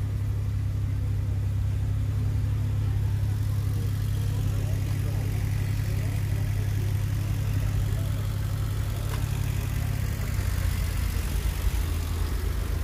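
A Damas or Labo minivan engine idles at a car market, a steady low rumble that holds throughout with a faint background hum and no clear revving.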